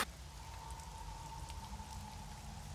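Steady rain falls as background ambience in a tabletop role-play scene, a dense, even patter that holds constant and fairly quiet throughout with no voices.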